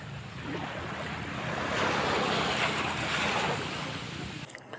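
Ocean surf breaks at the beach in San Felipe, Zambales, a steady broadband wash that swells through the middle and eases off toward the end, mixed with wind noise on the microphone and no voices.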